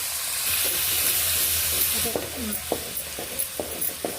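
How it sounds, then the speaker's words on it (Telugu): Asafoetida hitting hot oil in a pan, giving a bright sizzle that fades after a couple of seconds, then a series of sharp scraping clicks from a spoon stirring against the pan. "అర టీ స్పూన్ వచ్చి నేను హింగువా వేసుకుంటున్నాను"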